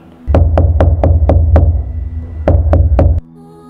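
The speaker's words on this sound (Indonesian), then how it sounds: "Suara ketukan pintu terdengar." Knuckles rap on a wooden door in a loud, close, steady series of six knocks, a brief pause, then three more, over a low rumbling hum.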